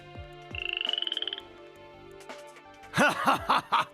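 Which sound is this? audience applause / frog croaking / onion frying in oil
frog croaking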